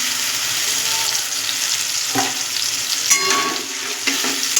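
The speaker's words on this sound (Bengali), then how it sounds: "এবার আমি ডিমটা যে ফাটিয়ে রেখেছিলাম সেই ডিমটা এর মধ্যে দিয়ে দেবো" A cracked egg frying and being stirred into daliya in a pan, a continuous close sizzle with intermittent spatula clinks and scrapes against the pan.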